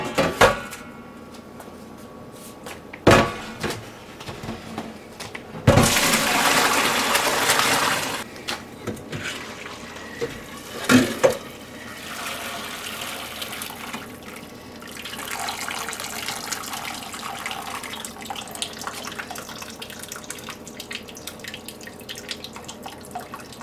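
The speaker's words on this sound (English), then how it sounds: "I will now strain it into this pot, secondary pot," Homemade soup, simmered for hours, strained into a second pot in a kitchen sink, heard as bursts of pouring and splashing liquid with drips and clanks of metal pots, fairly close, with quieter trickling between the bursts.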